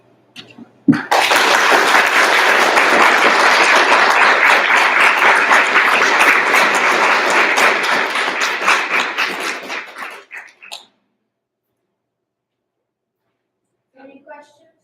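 A board meeting audience bursts into loud applause after a student project presentation, dense clapping sustained for about ten seconds before tapering off into silence, with a few faint sounds near the end.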